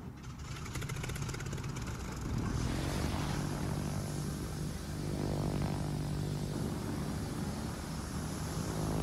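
Propeller aircraft engines drone steadily and loudly, with a continuous buzzing hum of attacking planes closing in during a naval battle in World of Warships, a video game.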